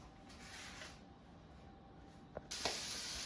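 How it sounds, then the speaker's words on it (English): Oil sizzles in a frying pan heating up for pan-fried chicken hearts, a faint, steady hiss that jumps noticeably louder and brighter partway through and stays loud. "So now it's fully heated and sizzling"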